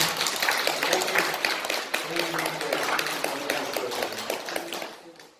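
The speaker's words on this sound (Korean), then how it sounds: "우리 거사님 건강을 위해서 박수 한번 쳐드리겠습니다." An audience at a Buddhist Sunday dharma talk applauds together in a dense, sustained burst of clapping that stays fairly loud and then fades out toward the end, with a voice speaking partway through.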